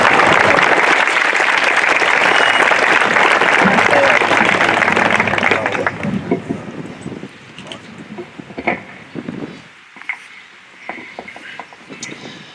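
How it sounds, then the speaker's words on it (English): An outdoor crowd at a motorcycle departure event for the Nation of Patriots applauds a flag bearer, loud and sustained for about six seconds, then fading into wind noise, scattered sounds and faint voices. "Let's give her a round of applause."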